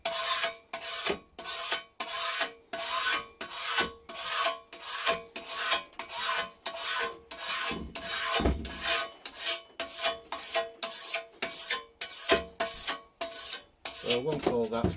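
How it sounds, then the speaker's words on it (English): Old Bullseye primer is scraped off a kiln shelf in repeated rhythmic rasping strokes, each a close gritty scrape separated by short pauses, steady and loud with no voices. "just flip your shelf around and scrape away the opposite edge."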